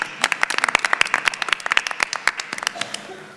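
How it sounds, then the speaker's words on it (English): A few people clapping in uneven rhythm, sharp close claps that thin out and fade near the end. "they both deserve a round of applause"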